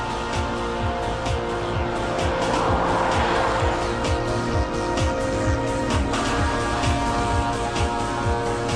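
An XKR luxury sports car with a 370-horsepower V8 engine accelerates hard, its loud, steady engine roar filling the whole stretch with a continuous rumble and faint tire noise.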